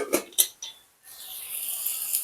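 A metal lid lifted off a cooking pot, two or three quick clanks and clinks, a short pause, then a soft steady hiss of steam and sizzle from the open pot.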